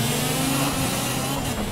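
A race car engine drones steadily in Project CARS with a 125cc car, loud and continuous, while another car overtakes and a voice talks over it.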